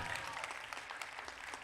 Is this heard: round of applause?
yes